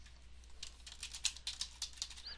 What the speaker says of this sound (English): Let's just type this really quickly. Select count star from COVID county.